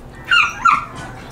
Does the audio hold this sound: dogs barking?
yes